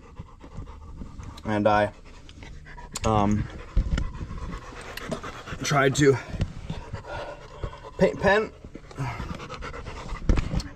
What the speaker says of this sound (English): I got my dog that's literally attacking me.